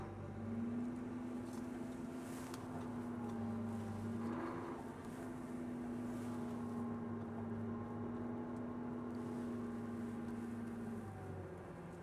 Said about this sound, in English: Now we're going to drive forward to align the wing wheels, which is going to pull them around to the front.